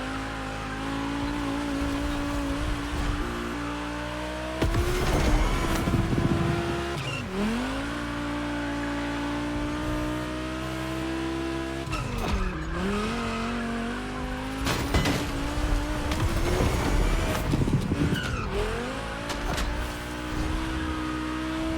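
Volkswagen race cars in The Crew Motorfest gymkhana event roar steadily with rising and falling engine revs, punctuated by several loud bursts of tire squeal and skidding through the corners.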